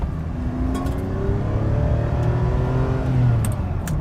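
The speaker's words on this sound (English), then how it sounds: "Then there's the engine." A 1999 Ferrari 550 Maranello's V12 engine revs steadily, a smooth continuous drone rising in pitch over about four seconds, loud and close with no talking.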